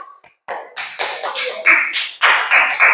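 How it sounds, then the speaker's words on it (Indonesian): A burst of clapping from a small group, starting after a brief pause and continuing steadily, fairly close and loud. "Silakan dulu beri tepuk tangan buat kelompok"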